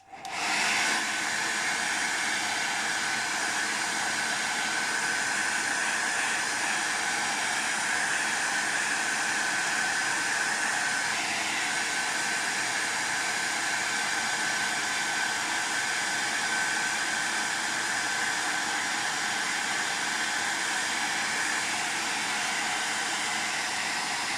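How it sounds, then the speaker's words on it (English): A hair dryer blows steadily and loudly on wet paint for the whole stretch, a continuous broadband whoosh with a faint whine, no talking. "I like to take the hairdryer, dry it, and then move the paint at the same time"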